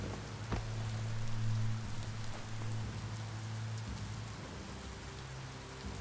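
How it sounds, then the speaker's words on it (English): Steady rain falls in the video game Biomutant, a continuous even hiss of drops with low droning game tones humming underneath and no voices. "And now it's raining."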